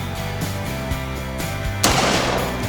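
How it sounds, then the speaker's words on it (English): Shotgun firing outdoors during a firearms demonstration: a single loud, sharp blast near the end, following steady rhythmic background noise, with no talk. "Whenever you're ready to fire, pull the trigger."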